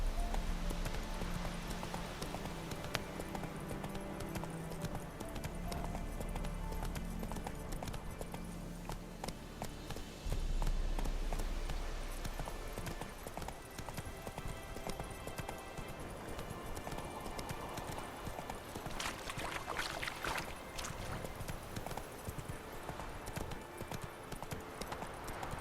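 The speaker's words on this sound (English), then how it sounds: "Whoa there, Roach" Horse hooves clip-clop at a steady gallop in The Witcher 3 video game, a continuous rhythmic pounding mixed with game sounds and background music, fairly quiet throughout.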